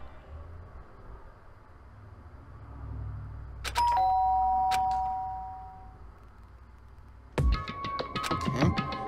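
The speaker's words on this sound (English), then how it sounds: "did I hear the doorbell?" Electronic doorbell from the video game Danganronpa chimes with two ringing tones, followed after a pause by a louder burst of bright ringing notes over a soft low ambient hum.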